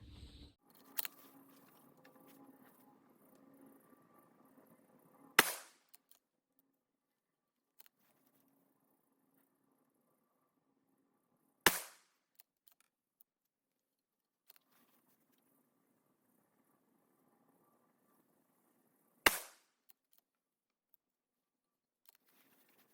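Three sharp, loud gunshots from a Shooters World Heavy Pistol firing 300 Blackout 150 grain rounds, spaced several seconds apart at the range, each a single crack with a short tail, after a brief stretch of low handling noise.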